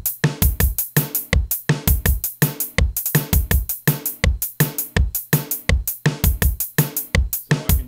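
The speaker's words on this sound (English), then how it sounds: "Hi-hat's another one I like to kind of double up on." A busy electronic beat in FL Studio loops steadily, with sharp, bright doubled hi-hat ticks layered over punchy low kicks in a fast, repeating pattern.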